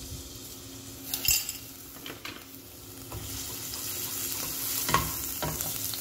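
Garlic frying in hot olive oil in a pan, a soft sizzle that builds steadily, with a few metallic clinks and scrapes of a utensil near the start and end.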